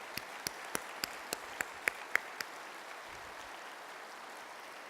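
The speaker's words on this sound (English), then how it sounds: "Ladies and gentlemen, join me in a round of applause." Audience applause at a military summit opening ceremony, featuring a series of distinct, evenly spaced claps that dominate the first half and then fade into a soft, diffuse wash of clapping.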